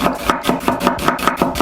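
A knife chops onion into medium slices on a cutting board for a cheesesteak, a quick, even run of about nine crisp, close knocks.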